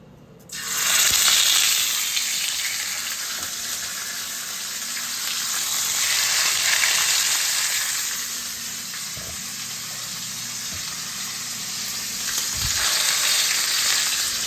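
Lentils searing in a hot pan, a loud sudden sizzle that surges in and holds as a broad steady hiss, swelling and easing with faint stirring knocks.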